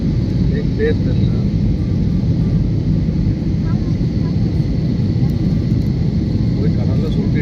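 Passenger jet on approach to a runway on a Chennai to Goa flight, heard from inside the cabin as a loud, steady engine roar and rumble that continues throughout, with a faint voice under it.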